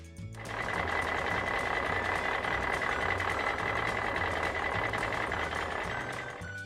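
Backhoe on a construction site moving with a loud, steady engine drone and regular repeating reversing beeps sounding close throughout, with no talk.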